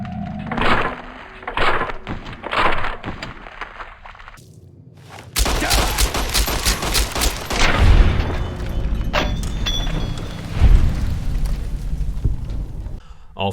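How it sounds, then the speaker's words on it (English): Video game gunfire rings out as a series of sharp shots, several spaced reports early on, then a louder, denser burst of booming blasts and thuds over a sustained rumble. "I sneak behind him and shoot him in the head"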